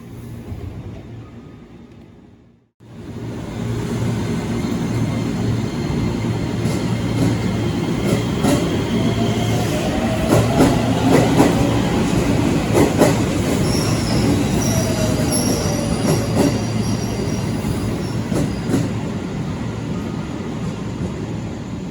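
A KRL commuter train departs Bogor, pulling away and rolling past, wheels clattering and squealing steadily over the rails, loud and close, after a brief quiet moment.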